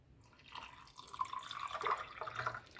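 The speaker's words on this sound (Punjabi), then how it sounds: "ਹੁਣ ਆਪਾਂ ਇਹਦੇ ਵਿੱਚ ਪਾ ਦਿਆਂਗੇ ਪਾਣੀ" Water is poured into a nimbu shikanji premix of lemon and sugar, a faint, close trickle and splash that swells and fades over a few seconds with no talking.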